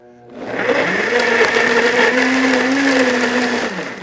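A blender whirs steadily for several seconds, loud and close, its motor pitch rising slightly as it runs, with no voices.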